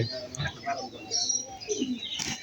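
Pigeons at their feeding spot give scattered soft coos and chirps while flying back to their nest, faint and intermittent, with a voice murmuring in places.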